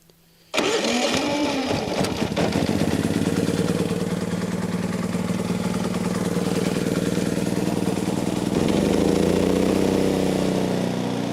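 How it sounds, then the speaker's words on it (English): A generator engine catches after a brief quiet moment and settles into a steady, loud, close running drone. It holds a constant mid-pitched rumble, with a slight rise in the last few seconds. "as you may be able to hear in the background, that generator is running"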